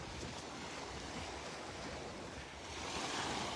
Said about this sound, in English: I'm up at the north end of Area 2, making my way north up the beach